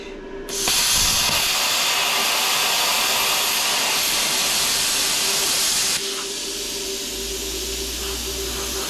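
A Lotos LTP 5000D plasma cutter cuts half-inch steel with a loud, steady hissing roar. The roar starts abruptly, runs for about five seconds, then drops to a quieter hiss.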